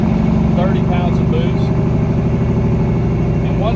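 A turbocharged truck with a 13-speed transmission lugs up a hill, its deep engine drone steady and loud beneath someone talking over it.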